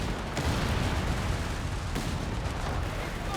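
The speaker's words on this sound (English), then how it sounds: "Here comes some more walking Stuka action" Walking Stuka rocket barrage in Company of Heroes 3 gives a dense, continuous rumble of distant explosions and artillery-like blasts, with a few sharper bursts rising above the steady low roar.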